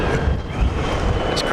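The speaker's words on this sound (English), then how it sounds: "Hold on, this way is so windy. I hope you guys can hear me." Heavy wind buffeting a handheld microphone on a New York City street, a loud continuous low rumble with shifting gusts that fills the whole moment, while a voice talks over it.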